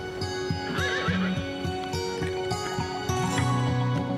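Horses once used to haul cargo, recycling and rubble through the streets of Zipaquirá neigh and whinny loudly and close up, with a few clip-clop hoofbeats mixed into a dense, steady background of noise.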